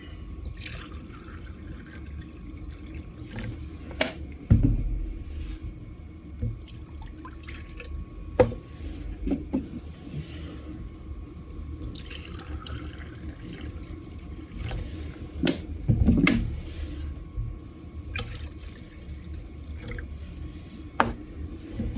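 Two cups of water poured into a cold pot for a camping gas cooker, heard as scattered drips, trickles and small pours with irregular pauses, close by and fairly quiet, with occasional knocks of the pot.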